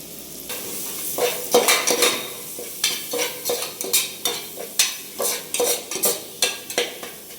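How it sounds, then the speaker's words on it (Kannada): Spices sizzle in hot oil for spinach sambar while a spoon stirs the pan in repeated scraping strokes, a steady frying hiss underneath, close and fairly loud with no talking. "ನೋಡ್ಬೋದು ನೀವು ಇಲ್ಲಿ ಯಾವ ಥರ ಫ್ರೈ ಆಗ್ತಾಯಿದೆ ಅಂತೇಳಿ"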